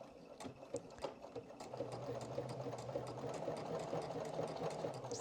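A sewing machine stitches down a seam on a vest, starting with a few short bursts and then settling into a steady, close mechanical whirring hum with rapid needle ticks.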